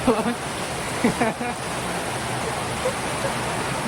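Heavy rain pours down as a constant, dense roar close by, with a voice briefly audible over it near the start.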